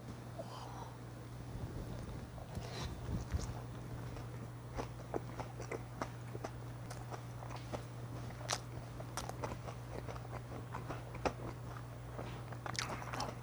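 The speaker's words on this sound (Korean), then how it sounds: "이번에는 옛날 양념치킨 먹어볼게요" Close, crunchy bites and wet chewing of old-style Korean fried chicken coated in seasoned sweet-spicy sauce, repeated irregularly over a steady low hum with no talking.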